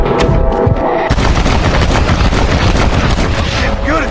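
Dense, loud gunfire from the Western video game Red Dead Redemption, sustained bursts of shots and booms filling the whole stretch with no pause.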